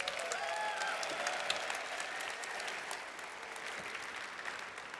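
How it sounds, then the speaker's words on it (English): An audience claps at the WPC 2026 opening ceremony, with sustained applause from a large indoor crowd that holds steady and then tapers slightly. "There's going to be a lot of clapping tonight."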